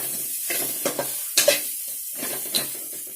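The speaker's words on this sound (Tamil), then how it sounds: "இப்போ நம்ம அதையும் ஃபுல்லாக மிக்ஸ் பண்ணி விட்டுக்கலாம்." Schezwan pasta being stirred and tossed in a hot pan, a steady sizzle broken by several sharp scraping strokes of the spoon against the metal, close and fairly quiet with no talk.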